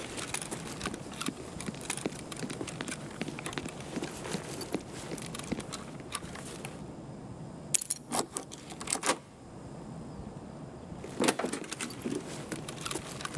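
A key rattles and clicks in a door lock, metallic jangles and scrapes coming in short bursts, close and fairly quiet, with sharper clacks as the bolt turns.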